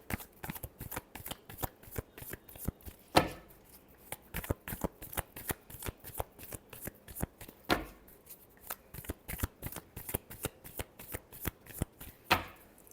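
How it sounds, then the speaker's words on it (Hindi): A deck of tarot cards is shuffled by hand in a quick, close series of crisp riffling flicks and soft slaps, repeating in uneven bursts with short pauses, alone without talk. "Last shuffle."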